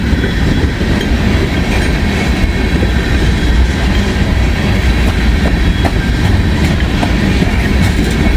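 A slow coal train of empty, unlabeled tank cars rolls past close by, a loud steady rumble with rhythmic wheel clatter and faint metallic squeals running throughout.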